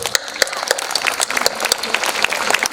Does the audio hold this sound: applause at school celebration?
yes